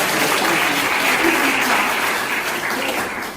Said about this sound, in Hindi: तो हम लोग तालियां बजाते